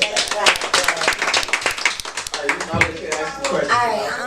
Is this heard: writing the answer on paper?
no